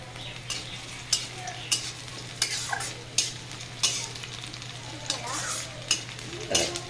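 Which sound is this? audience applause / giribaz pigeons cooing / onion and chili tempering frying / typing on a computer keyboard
onion and chili tempering frying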